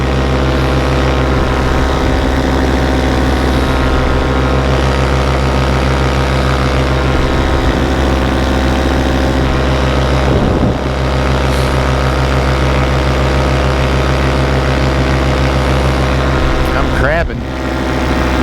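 A small propeller airplane drones steadily and loud from inside the cabin as it comes in to land on a muddy strip, the engine tone holding nearly constant with slight shifts, under a pilot's talk.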